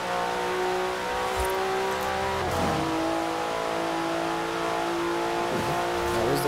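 A 2019 Porsche Carrera S in Forza Horizon 4 revs hard through its gears, the engine note climbing steadily and dropping sharply at each shift, loud and continuous with no speech.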